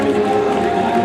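An audience at a horse dressage show applauds, a dense, steady wash of clapping and crowd noise throughout the short moment.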